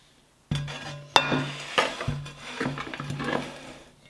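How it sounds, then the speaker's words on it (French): Cookware clattering in a kitchen as a frying pan is picked up and handled for grilling corn, a few sharp metallic clinks and knocks followed by softer scraping and handling noises at close range, with no voices. "je vais prendre une poêle"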